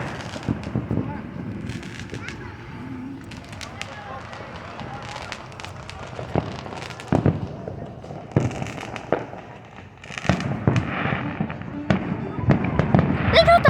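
Illegal consumer fireworks go off outdoors at night in a string of sharp bangs and crackling bursts, some close and loud, with people talking and exclaiming between the blasts.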